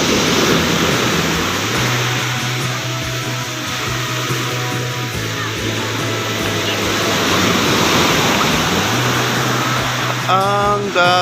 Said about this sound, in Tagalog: Ang dagat ng Real Quezon.